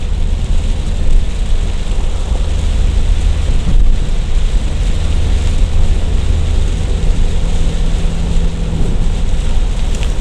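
Rain falls steadily during a drive on the Binjai–Kualanamu toll road, a dense, loud hiss mixed with low road and engine rumble, continuous throughout with no voices.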